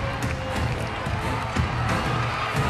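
Stadium crowd of 75,000 at the 2023 SEA Games opening ceremony in Cambodia, cheering in support of the host nation, forming a dense, continuous roar with no pauses.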